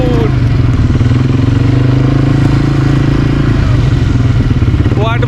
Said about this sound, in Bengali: কোয়াড বাইক চালাচ্ছি,